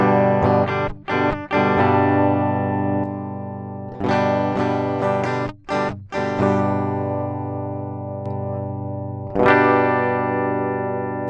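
Aklot Lorien LP-style electric guitar on its bridge pickup with the coil tap engaged, played through heavy distortion: thick sustained chords that ring out, broken by a few short muted stops and re-strikes.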